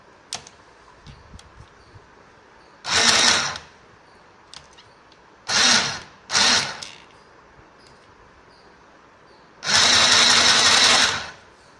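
A sewing machine runs four separate bursts, stitching a folded chudi bottom hem. Each stitching run is steady and close, with short and longer pauses and faint handling clicks between runs.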